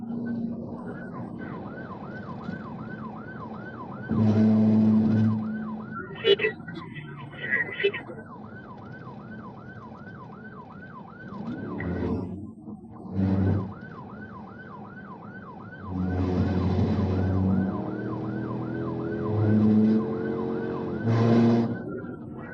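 A police patrol car's siren wails in a steady rising-and-falling cycle on a busy highway, carried through most of the stretch with brief gaps, while deep voices speak over it in bursts.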